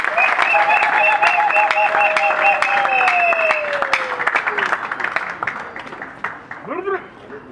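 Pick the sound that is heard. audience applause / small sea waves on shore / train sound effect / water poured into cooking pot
audience applause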